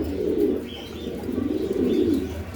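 Pigeons kept in pairs at a small home pigeon farm, giving soft, steady cooing and low murmuring from several birds close by, with faint chirps over a continuous low background.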